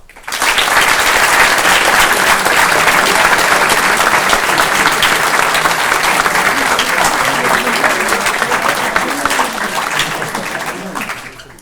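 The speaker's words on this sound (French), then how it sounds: "donc on peut les applaudir" A theatre audience at an amateur comedy performance gives the actors sustained applause, a loud, dense wash of many hands clapping steadily for about ten seconds before tapering off at the close.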